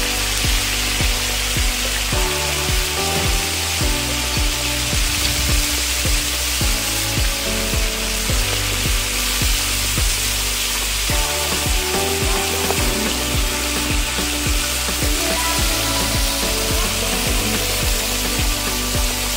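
Calamari rings deep frying in hot oil give a loud, steady, dense sizzle that carries on unbroken throughout, close to the pan.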